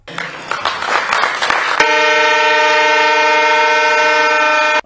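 A train on the new Mizoram railway line rumbles and clatters closely at first, then a loud, sustained horn blast holds steady until the end.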